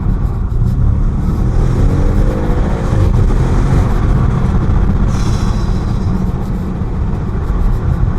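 An Audi RS6 Performance car accelerating hard, heard from inside as a loud, sustained engine roar with strong road rumble that stays heavy throughout, without talk.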